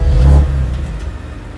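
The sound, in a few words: BMW M2 Competition engine starting and revving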